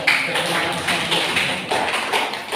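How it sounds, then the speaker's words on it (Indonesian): Classroom applause from a group of students, a dense steady patter of clapping that stays loud and close throughout with no speech over it. "Kita kasih aplaus dulu."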